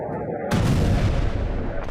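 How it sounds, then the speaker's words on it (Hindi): A drone-attack explosion near an oil field on a hillside close to Fujairah port erupts halfway through as a loud, sustained rumbling boom, following quieter low background noise, with no voices. "ऑयल फील्ड के नजदीक पहाड़ी पर हुआ है विस्फोट।"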